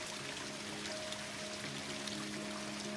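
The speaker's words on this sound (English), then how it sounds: "The sound of water." Water runs in a steady, continuous wash with a faint trickling texture, holding an even level throughout with no voices.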